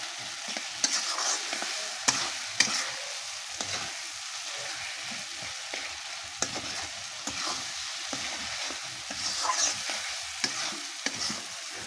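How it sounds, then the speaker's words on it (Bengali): Spice paste of ginger, garlic, cumin, turmeric, chili and coriander with salt and onion is stirred and sautéed in a pan on a village clay stove, with a steady sizzle and repeated scraping strokes of the spoon. "মশলাগুলো কষিয়ে নিচ্ছি।"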